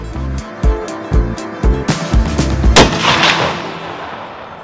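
A hunting rifle fires during an elk and mule deer hunt in snowy Colorado. One loud, close crack with a lingering tail follows a run of rhythmic dull thumps.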